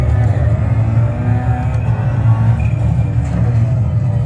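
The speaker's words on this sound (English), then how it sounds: "you can really hear that turbo spool. And it sounds so unique in the Ferrari" A Ferrari race car in the racing game Assetto Corsa Competizione on the Nordschleife sounds a loud, continuous engine drone with turbo spool, steady and close throughout.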